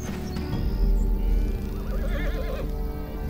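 A horse in the desert game Badiya lets out a clear whinny over a low rumbling background, with faint hoof clip-clop, no speech.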